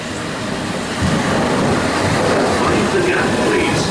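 A London Underground tube train rumbles steadily and loudly throughout, a dense continuous roar of wheels and carriage noise with no clear talk.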